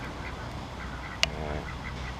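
Soft quacking of young ducks in a park over a steady outdoor background, with one sharp click near the middle.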